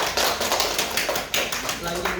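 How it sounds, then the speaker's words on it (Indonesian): Classroom applause for a student presentation group, a dense burst of many hands clapping that fills the whole moment, with scattered sharper claps and a busy room murmur underneath. "beri tepuk tangan untuk kelompok 2."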